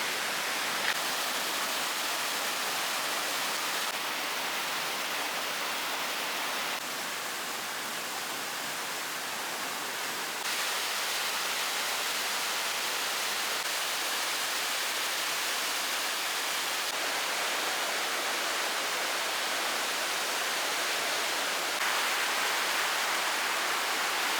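Waterfall in the Lake District rushing steadily, a dense, even roar of falling water close by that holds constant throughout with no voices.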